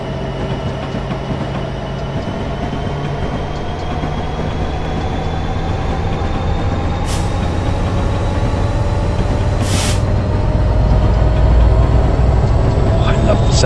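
A CSX SD70MAC diesel locomotive in Train Simulator 2016 on an Ohio steel route gives a steady, close engine rumble that grows louder toward the end, with two short bursts of hiss.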